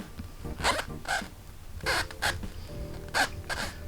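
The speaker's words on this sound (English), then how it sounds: "So that's the sound of what's called a reactive cover stock." A bowling ball with a reactive cover stock grips the lane, producing several short rasping, zipper-like squeaks in uneven bursts over a low rumble, fairly close and clear with no voices.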